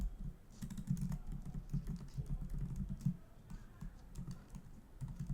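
Computer keyboard keys clatter in a steady, uneven stream as JavaScript code is typed, close and moderately quiet, with no talking.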